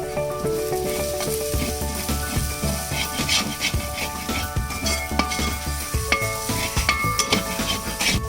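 Chicken curry masala with chilli powder, coriander powder and turmeric fries in a pan under a steady sizzle, while a spoon scrapes and stirs through it in busy, continuous strokes close up.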